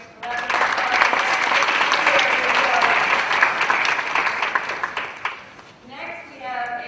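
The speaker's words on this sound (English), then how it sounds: "Thank you to our organ recipients, Anthony, Roxanne, Jen, and Dave, who please give them a nice round of applause." An audience at an organ donor day event in New York applauds the organ recipients, a dense, loud wash of clapping that swells, holds for several seconds, then fades as a voice begins.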